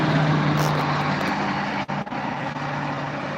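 Dense expressway traffic roars in a loud, continuous wash of tire and engine noise, with a steady low hum and a brief dip as vehicles pass close by.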